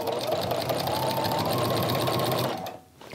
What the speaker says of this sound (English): I'm gonna sew like just on the inside of this to secure that down